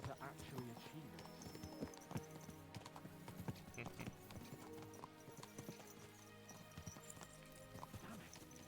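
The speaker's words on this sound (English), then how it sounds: "Let's really spur these horses on, eh?" Horses galloping in the video game Kingdom Come: Deliverance II, with rapid, continuous hoof clip-clops and an occasional whinny, steady and close throughout, with someone speaking over them.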